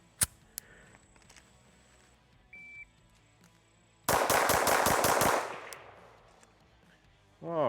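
An OA 2311 Pro Elite 2011-style pistol fires a sharp single shot, then after a pause unloads a fast string of about eight loud, close cracks in quick succession, each with a ringing tail.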